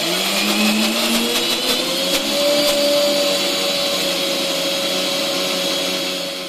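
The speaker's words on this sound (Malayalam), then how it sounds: "പെട്ടെന്ന് നമുക്ക് മിക്സിയിലിട്ട് അടിച്ചെടുക്കാം." A mixer grinder blends yogurt and spices for a mango pulissery, its motor giving a loud, steady whir whose pitch climbs slightly and then holds, running continuously without pause.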